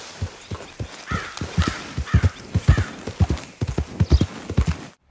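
Horse hooves clip-clop steadily in Red Dead Redemption 2, a rider's mount in the hot Lemoyne region, with close, regular hoofbeats and an occasional faint whinny.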